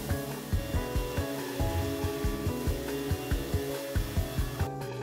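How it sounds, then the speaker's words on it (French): Rhythmic back-and-forth rasping of sandpaper against the face of a carved wooden fox, steady repeated strokes close by with no talking. "Je ponce de face."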